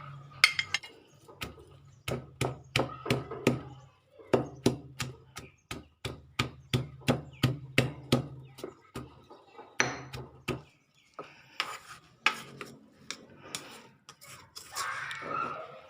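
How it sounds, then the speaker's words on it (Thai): Garlic and shallots pounded in a mortar for a Thai steamed bamboo shoot and pork belly dish: steady, rapid thumps in rhythmic bursts with short pauses between, close and fairly loud, with no talking. "ก็จะใส่กระเทียมกับหัวหอมลงไปกรกด้วยนะคะ"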